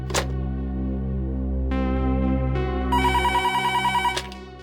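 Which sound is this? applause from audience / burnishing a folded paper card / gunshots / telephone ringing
telephone ringing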